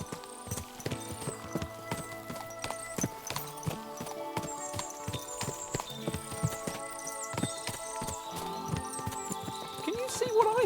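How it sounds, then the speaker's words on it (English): Horse hooves clip-clop in Kingdom Come Deliverance 2, a steady overlapping beat of many horses at close to middle distance, with a few whinnies and background game sounds and music. "What a lot of horses!"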